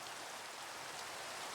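Rain in the video game Minecraft, a soft, even, continuous hiss of falling rain heard alone at low volume.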